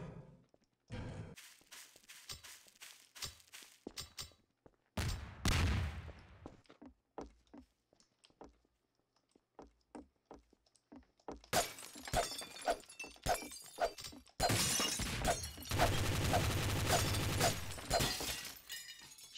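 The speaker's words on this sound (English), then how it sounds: "Shots fired, shots fired." Gunfire rings out in the Garry's Mod Trouble in Terrorist Town game, with sharp shots and glass shattering amid scattered game noises, then long sustained bursts of loud shooting toward the end.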